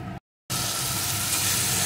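Onion and tomato simmering in water for an egg curry give a steady, close, loud bubbling sizzle that cuts out briefly near the start, then runs on continuously with faint stirring beneath; no one speaks.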